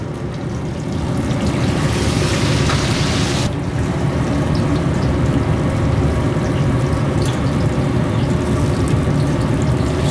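A squash blossom coated in a light non-egg batter, dropped into hot oil in a sauté pan, giving a continuous loud sizzle and crackle that jumps up as it hits the oil.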